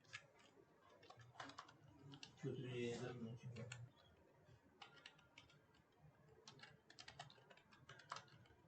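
Keys clatter on a computer keyboard during page layout work in InPage Urdu, with the Tab key pressed among them: irregular quick clicks spread across the clip, a denser burst near the middle, and voices talking underneath at times.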